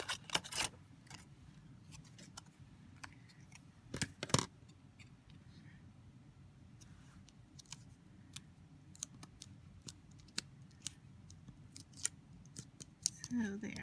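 Scissors snip green foil for a wish bracelet in a series of sharp, separate cuts, close and clear, with soft handling rustle and a faint room hum between them.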